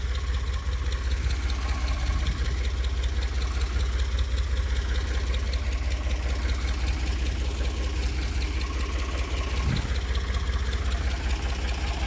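A Ford 4500 backhoe engine runs at a steady idle nearby, a constant low diesel rumble and drone with no talk over it.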